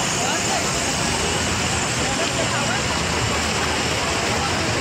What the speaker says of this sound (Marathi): इथं पाण्याचा दबाव खूपच आहे. पाणी खूपच प्रमाणात जास्त वाढत आहे